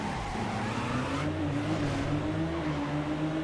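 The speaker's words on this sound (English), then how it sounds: "Hearing the Veloci's engine, you know, it's actually kind of distracting" The Veloci car's engine in the Midnight Club 2 racing video game drones loud and steady, its pitch climbing gradually as the car accelerates. No one speaks.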